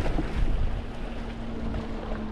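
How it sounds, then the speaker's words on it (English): Strong wind buffets the microphone on a rocky Anglesey shoreline during rock fishing. The roar is continuous and broadband, with low rumbling gusts and a steady faint hum. "it's blowing a hoolie here"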